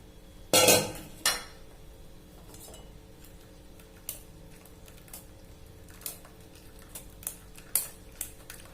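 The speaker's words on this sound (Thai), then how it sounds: "เราจะมากรองใส่กระชอนแล้วก็ยีเนื้อของมะขามนะคะ" Tamarind pulp is strained and mashed through a metal sieve. Two sharp scraping clatters are followed by scattered light clinks and taps of a utensil against the sieve over quiet background, with no talking.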